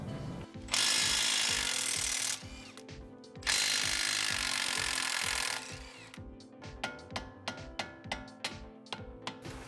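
A power tool whirs in two long loud bursts over rapid mechanical clicking, then a hand ratchet with an 18 mm socket clicks in quick, regular strokes nearby, removing Chevy Cruze strut nuts.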